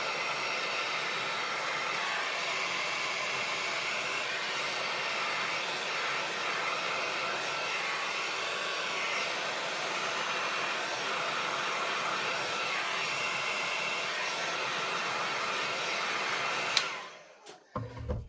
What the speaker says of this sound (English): I'm just giving this a bit of heat so that can get a bit tacky.